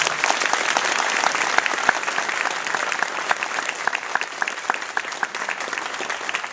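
A crowd claps steadily at a hospital town hall meeting in San Leandro, California, a full round of applause close by that holds at an even level throughout.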